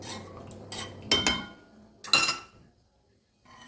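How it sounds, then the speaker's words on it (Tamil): Rice porridge for a five-month-old baby being stirred, with two distinct bursts of spoon scraping and clinking against the pot over soft background clatter, then a near-silent pause before faint rustling returns. "கட்டி இல்லாமல் நல்லா கலந்து கொடுக்கணும்"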